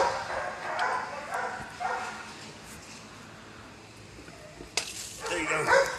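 Dogs at a Humane Society shelter barking and yipping at feeding time, a few scattered barks with a louder burst near the end, over background murmur and movement.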